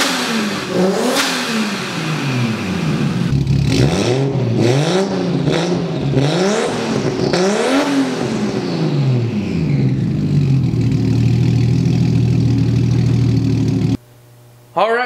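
A Toyota 1JZ-GTE engine with Brian Crower 264 camshafts in a drift car project runs close and loud, blipped through a series of sharp revs before settling into a rough, steady idle. A brief cut interrupts it near the end.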